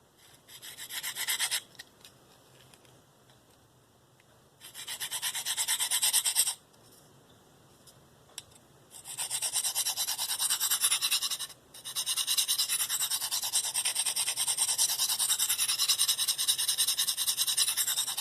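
A Spyderco Paramilitary 2 knife with an S30V blade is stroked across a DMT coarse 45-micron diamond stone, giving close rasping scrapes in several bursts separated by short quiet pauses.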